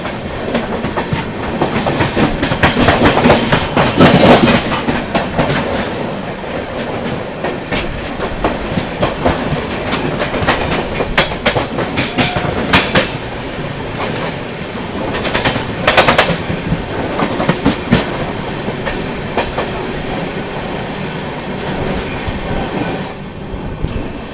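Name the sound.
Yesvantpur–Nizamuddin Karnataka Sampark Kranti Express passing, train crossing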